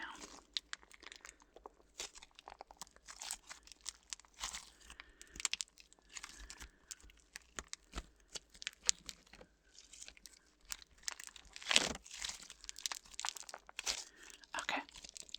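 Soft squishy slime being squeezed and played with up close, giving dense crackling, crinkly pops and sticky squelches that come in irregular bursts, with one louder squish near the middle and no voice.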